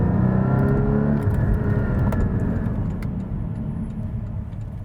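A car's engine drones low and steady while driving, with a strong rumble that eases slightly toward the end, no voices over it.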